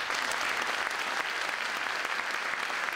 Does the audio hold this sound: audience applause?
yes